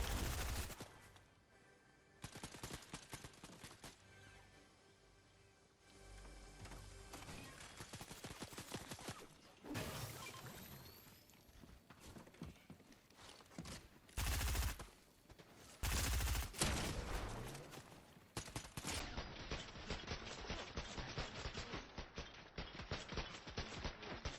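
Gunfire in a cowboy video game: rapid shots and volleys crackle in clustered bursts, with a few louder isolated bangs standing out from the steady barrage.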